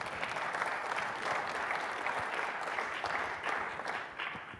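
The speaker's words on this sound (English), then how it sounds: "So if you could please give them a brief round of applause." Audience applause for panelists at a carbon capture and storage hubs conference session, a dense, steady round of clapping that fills the whole stretch and eases off slightly at the end.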